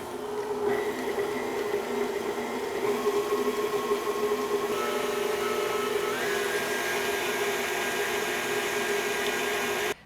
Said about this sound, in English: Next, we're gonna give it a whirl in the mixer